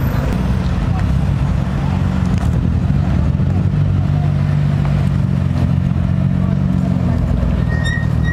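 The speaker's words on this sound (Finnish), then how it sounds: "Siinä tosiaan meidän firman Velfire tulee, Jere ajaa sitä." A company Toyota Velfire van drives up, its engine a steady low rumble that stays near and loud throughout, with faint clatter on top.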